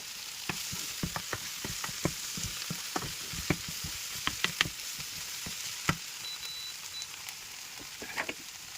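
Sliced onions cooking with salt in a pan give off a steady soft sizzle, punctuated by frequent sharp clicks and taps of a spoon stirring against the pan, close and fairly quiet.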